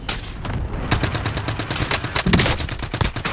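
Rapid gunfire from the video game Call of Duty: Warzone, a dense, loud stream of automatic shots with sharper bursts rising throughout, no voices over it.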